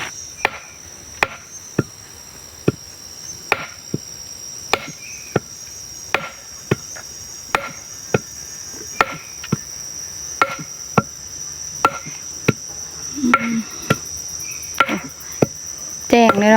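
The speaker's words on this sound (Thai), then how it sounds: "อันนี้เขาตอกแล้วมันจะเสียงดัง" Hammering beside a tent at night: a steady series of sharp, evenly spaced knocks, roughly one per second, with crickets chirping constantly in the background.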